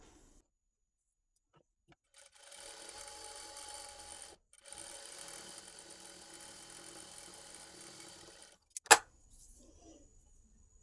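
A sewing machine stitches a half-inch folded hem on straight cloth cut from a saree, running in two steady close bursts with a short pause between, then a sharp click near the end.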